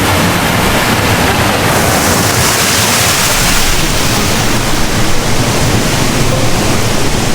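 Waterfalls at Plitvice Lakes in Croatia roar in a loud, dense, unbroken rush of falling water that fills the whole stretch, with no voices.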